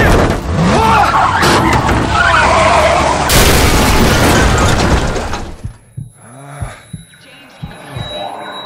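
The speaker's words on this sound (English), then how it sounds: "The truck's wrecked." A truck crashes in the game Into the Dead 2: a loud, chaotic crash of grinding metal and shattering debris that cuts off abruptly, followed by quieter scattered thumps and a low hum.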